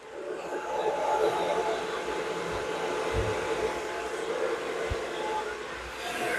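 A hair dryer blows heat onto wrapped hair during an at-home blowout, a steady airy roar that swells in and stays loud throughout, with a few faint low knocks beneath.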